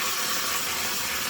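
Liquid pours into a hot pan of rice being cooked for Mexican rice, and a loud, steady, close steam hiss fills the whole moment without a break.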